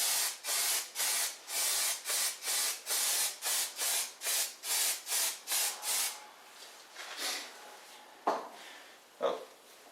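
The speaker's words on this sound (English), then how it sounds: "You just spray it with the copper and just put it on the engine." Copper gasket spray from an aerosol can coating an engine head gasket: a rapid series of about a dozen short, even hissing bursts, then a few scattered scrapes and clicks.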